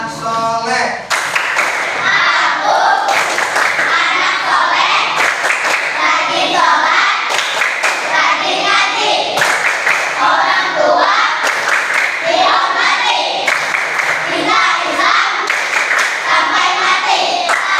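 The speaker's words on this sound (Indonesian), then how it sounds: "Coba tepuk anak soleh." Children in a classroom perform the 'tepuk anak soleh' clapping chant, rhythmic bursts of group clapping alternating with chanted voices in a steady, repeating pattern.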